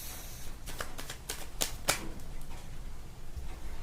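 Tarot cards shuffled and drawn by hand, a series of soft, close riffling flicks and a few sharper snaps spread irregularly over a quiet background.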